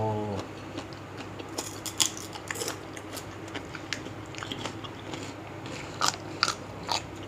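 Crispy fried pork is crunched while eating, close bites and chews crackling irregularly through a quiet background, with louder crunch clusters near the start and end.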